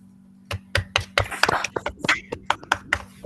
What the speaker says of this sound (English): I think we should probably all unmute and give her an applause